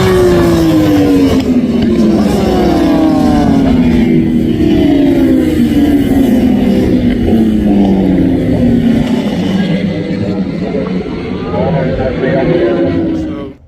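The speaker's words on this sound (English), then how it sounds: "he seems to be out now on the classic superbike" Classic superbikes racing on a road circuit, engines roaring loud and continuous with repeated rising and falling whines as machines pass and shift, under steady commentary throughout.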